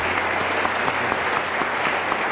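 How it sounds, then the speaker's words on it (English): Steady applause from the audience at a League of Women Voters congressional candidate forum, honoring all four candidates, a dense, even wash of many hands clapping throughout, with no voices over it. "now's the time for applause for all four"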